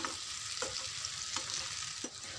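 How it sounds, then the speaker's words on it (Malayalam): Oil sizzles steadily as a banana snack fries on high flame, with a few scraping stirs of a utensil at regular intervals; no voices. "ഹൈ ഫ്ലെയിമിൽ തന്നെ വെച്ചിട്ട് ക്രിസ്പി ആവുന്ന അത്രയും സമയം ഒന്ന് ഇളക്കി കൊടുത്തിട്ട് നമുക്കിത് കോരി മാറ്റാം"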